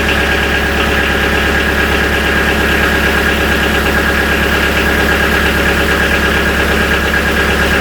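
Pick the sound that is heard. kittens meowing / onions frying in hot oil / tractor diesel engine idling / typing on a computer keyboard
tractor diesel engine idling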